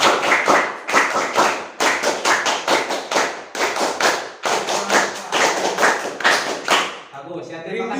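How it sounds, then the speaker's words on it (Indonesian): A group performs the Indonesian scout clap, tepuk pramuka, in sharp rhythmic bursts of unison clapping broken by short pauses, loud and close, ending as someone starts talking. "Tepuk pramuka."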